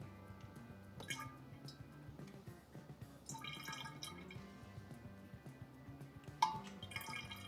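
Kaisersol fining agent poured gently into homemade Sangiovese red wine, a soft trickling and dripping of liquid under faint background music.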